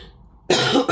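A single sharp cough bursts out after half a second of quiet, loud and close, followed by a short second hack from someone recovering from a lingering cough.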